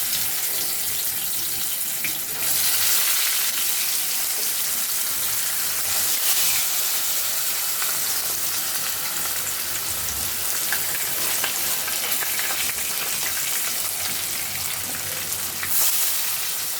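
Fish fry in hot oil for a tel koi recipe, a loud continuous close sizzle and crackle that holds steady throughout with occasional brighter spits.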